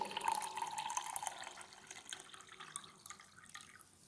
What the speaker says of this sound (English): Then I will put water in that beaker.